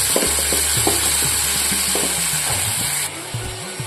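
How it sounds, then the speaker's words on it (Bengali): Spice masala with salt and turmeric fries in a pan, a loud continuous sizzle with repeated scraping strokes of a stirring spoon against the metal, close up and without talk. "এই যে এখন লবণ হলুদও দিয়ে দিলাম, মশলাটা ভালো করে ভাজা হোক।"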